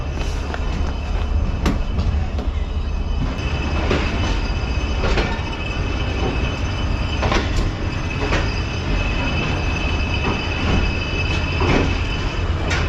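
A Karachi Express train pulls away from a stop in winter, with continuous rumbling, rhythmic clunks and clicks from the wheels, and faint squeals. The sound is loud and close from on board and nobody speaks.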